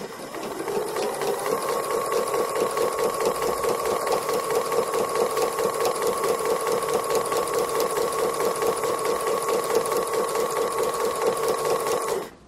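A sewing machine stitches free motion embroidery around the edge of a fabric cow, running steadily with a fast, even mechanical whir and patter at close range, alone for about twelve seconds before stopping.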